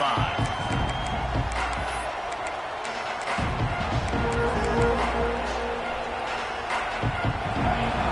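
A crowd at a football stadium roars and cheers in a dense, continuous wash of noise, loud and sustained throughout with scattered shouts and bursts rising within it.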